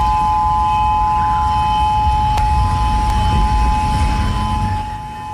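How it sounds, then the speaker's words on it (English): Emergency tsunami warning sirens wail across Honolulu, a steady distant tone held over a broad roar of wind and outdoor rumble, with no talking. "And that's the sound of the emergency sirens in Honolulu going off at this hour."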